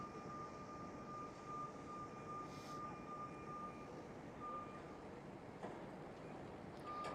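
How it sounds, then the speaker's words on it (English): A KLM Cityhopper Embraer E195-E2 jet moves at Schiphol, a moderate, steady engine drone with a faint high whine running through it and a few short clicks. "there goes the KLM City Hopper E195 E2 in front of the 787"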